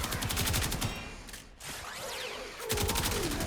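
Kuva Karak rifle gunfire in the Warframe video game, rapid automatic bursts of close, loud shots with a short pause in the middle before the firing resumes.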